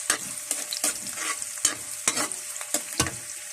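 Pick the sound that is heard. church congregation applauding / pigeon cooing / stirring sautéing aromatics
stirring sautéing aromatics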